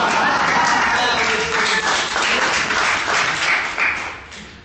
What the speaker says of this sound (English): Did y'all get that clapping?